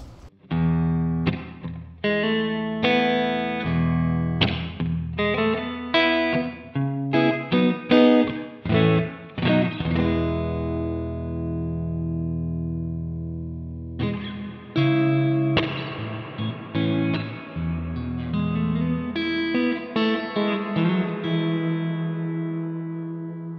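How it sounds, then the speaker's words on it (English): Electric guitar chords and single notes through a Source Audio Ventris Dual Reverb pedal on its room setting, ringing out through a roomy reverb, each strum decaying into a short ambient tail, with brief pauses between phrases. "So let's go through the 12 reverbs and hear what they sound like."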